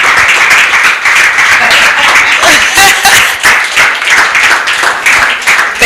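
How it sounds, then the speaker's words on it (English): An audience at the FIDA-Kenya annual conference opening ceremony gives sustained, dense, loud applause that carries on evenly for several seconds. "We give her an Obama clap until she"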